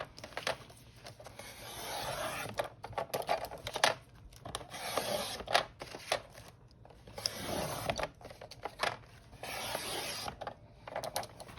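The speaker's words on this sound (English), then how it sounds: "I'm gonna go ahead and use my scissors and I'm gonna cut around these" Scissors cut through paper strips for a handmade junk journal ephemera envelope, giving repeated bursts of crisp snipping and rustling paper, close and fairly quiet, with no talk.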